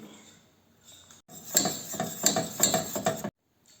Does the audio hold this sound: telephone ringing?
no